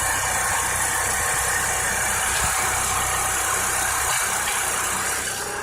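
A Duromax XP4850EH portable generator, rated 3850 running and 4850 starting watts, runs steadily while powering a battery charger, a loud, close, constant engine drone with no talk.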